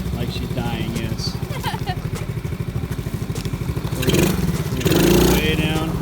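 Small ATV idling and revving with its speed governor turned way down, a close, steady pulsing putter that swells louder near the end while people talk nearby.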